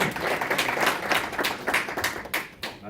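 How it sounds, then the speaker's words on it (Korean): Audience applause at a Coway sales lecture, a dense, steady patter of many hands clapping close by for nearly three seconds before it thins out at the end. "박수 한번 주시죠"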